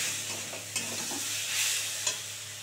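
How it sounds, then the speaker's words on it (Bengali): Fried golden moong dal sizzles in a hot pan as hot water is poured in, a bright continuous hiss with stirring scrapes and a couple of clinks. "এবার এর মধ্যে আমি একটু গরম জল ঢেলে দেবো।"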